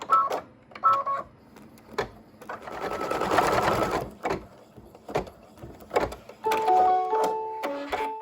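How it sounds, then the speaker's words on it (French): An embroidery machine stitches the fill of a hat motif in mylar, with bursts of rapid mechanical stitching broken by short pauses and faint beeping tones, close and fairly loud. "je vais maintenant broder le remplissage du chapeau."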